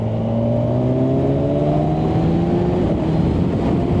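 A 2024 Kawasaki 1000SX sports tourer accelerating hard with its quick shifter, engine note climbing in rising pitch with a brief dip at an upshift, loud and close under wind rush.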